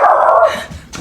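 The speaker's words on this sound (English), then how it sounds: "Oh, dog barking." A single dog barks close by, loud and sharp, then quickly falls away into quiet.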